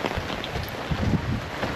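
Heavy rain falling steadily in a continuous broadband wash, with faint low rumbles underneath and no voices.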